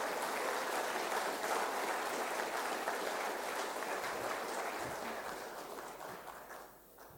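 Dense, steady applause from a large audience fills an awarding ceremony hall, sustained and loud before gradually thinning and fading toward the end.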